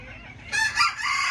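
Modern Game chickens crowing and clucking up close, a sudden bright burst that continues loudly for about a second with no talk over it.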